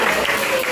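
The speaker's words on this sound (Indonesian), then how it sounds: "Oke, kasih tepuk tangan ke kawannya." A brief burst of classroom applause for a classmate during a peer-teaching lesson, dense clapping from a group that lasts under a second.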